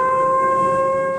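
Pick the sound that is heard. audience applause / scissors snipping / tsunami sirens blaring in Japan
tsunami sirens blaring in Japan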